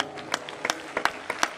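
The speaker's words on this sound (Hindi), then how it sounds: "एक बार फिर से तालियों के साथ" Audience applause at a church gathering, sparse scattered claps arriving in an irregular rhythm, fairly close and light, with no talk over them.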